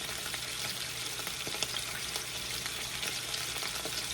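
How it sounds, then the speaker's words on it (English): Mustard-coated pork chops searing in a hot pan give off a faint, steady sizzle, with an even crackling hiss and no voices. "But I like to sear them to give them a little caramelization on there from the mustard."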